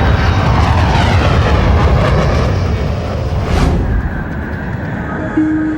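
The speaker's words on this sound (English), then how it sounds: "It's only when the plane finally breaks free of the clouds that Captain Ho is able to regain control of" An airplane in flight breaking out of clouds gives a loud, continuous engine roar and rushing air, with a swelling whoosh midway and a thin steady tone near the end.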